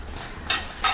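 Food fries in a pan with a soft background hiss broken by two short, bright bursts of sizzle or stirring scrape, close and loud, with no talk.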